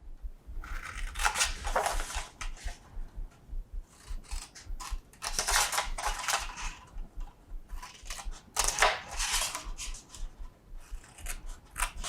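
Scissors snip through paper for a gift box, a steady run of close, crisp cuts in repeated bursts with short pauses between them, and no talking.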